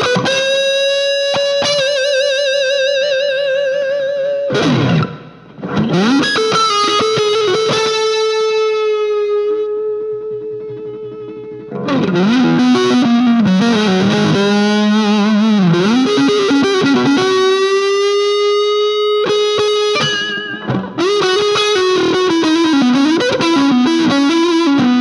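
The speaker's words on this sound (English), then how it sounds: "So it comes stocked with a spring reverb." Distorted electric guitar through an Orange Crush 35RT amplifier, playing sustained notes and bends, drenched in a splashy, drippy spring reverb, loud and alone with brief pauses.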